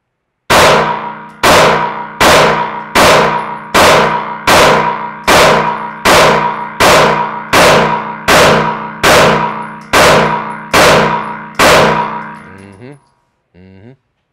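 Pistol rounds striking steel targets in a steady series of about a dozen loud, ringing clangs spaced roughly a second apart, each decaying with metallic resonance, followed by a faint rattle at the end.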